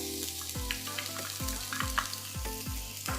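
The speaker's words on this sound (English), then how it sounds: "You want to hear the sizzling sound" Crushed garlic and the white parts of scallions sizzle in hot oil with grated ginger and ginger slices, a steady close frying hiss broken by rhythmic scraping stir strokes roughly every half second.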